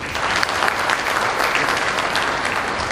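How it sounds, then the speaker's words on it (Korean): Audience applause fills an awards ceremony hall for internet and smart app awards, a steady, loud burst of many hands clapping throughout with no talk over it. "다시 한번 큰 박수 부탁드립니다."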